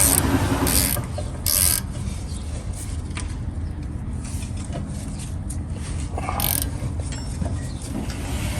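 A ratchet tightens a brake bolt on a 2018-2020 Honda Accord, faint mechanical clicking beneath a steady background hum, with a few sharper bursts near the start and again late.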